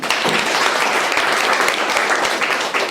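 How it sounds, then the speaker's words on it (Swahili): A church congregation applauds for Jesus, with dense, continuous clapping from many hands that stays loud and steady throughout. "Tumpigie Bwana Yesu makofi"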